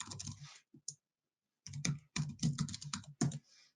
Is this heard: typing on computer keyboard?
yes